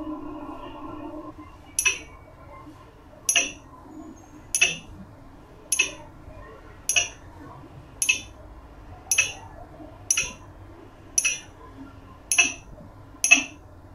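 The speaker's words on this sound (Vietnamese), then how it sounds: "thầy có một chiếc ly thủy tinh và thầy sẽ dùng một cái muỗng gõ vào thành thủy tinh" A metal spoon taps the side of a glass cup in a classroom physics demonstration, giving eleven bright, ringing clinks at a steady pace of roughly one every second and a quarter, each decaying quickly over a faint room hum.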